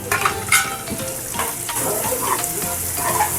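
Steady sizzling and crackling of a coconut and coriander paste frying in a hot pan, with occasional clinks and stirring scrapes throughout.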